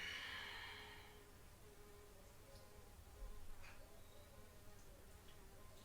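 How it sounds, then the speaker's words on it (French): A wasp buzzes faintly during an indoor chair yoga class, a thin high drone near the start that fades into quiet room tone with soft breathing. "J'ai une guêpe qui fait le yoga avec nous."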